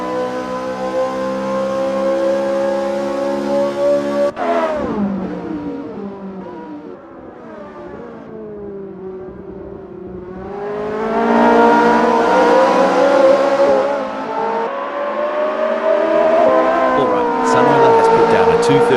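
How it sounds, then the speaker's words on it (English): Ferrari F355 Challenge Evoluzione racing engine in Assetto Corsa at the Hungaroring, loud and sustained, revving high, dropping through downshifts mid-run, then climbing again under hard acceleration with brief tire noise near the end. "They're getting a real taste of the Ferrari F355 Challenge Evoluzione's capabilities."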